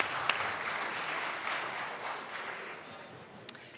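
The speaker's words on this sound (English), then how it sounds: "Round of applause." Lawmakers in a state House chamber clap in a steady round of applause, moderately loud with a few sharper claps standing out before it thins.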